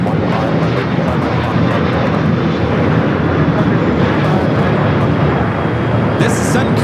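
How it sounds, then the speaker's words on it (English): Sun Country Airlines Boeing 737-800 jet taking off at Los Angeles airport, a loud, steady engine roar filling the whole stretch, with talk mixed underneath. "This is Sun Country Airlines 8728 taking off to St. Louis on the 737-800."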